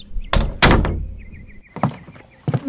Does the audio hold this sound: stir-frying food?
no